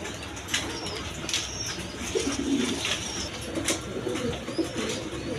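Gola pigeons murmur with soft, low coos amid rustling and brief wing flutters, close by and moderately quiet, with no talking.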